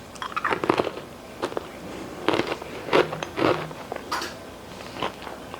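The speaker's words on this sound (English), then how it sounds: "And can you hear that? They're crunchy." Crunchy oven-baked sourdough snacks being bitten and chewed up close, a series of sharp crackling crunches in irregular bursts with quiet pauses between.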